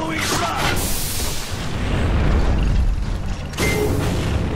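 Gunfire in Gears of War, loud sustained bursts and booming impacts in a dense battle mix, with a voice briefly calling out over the shooting.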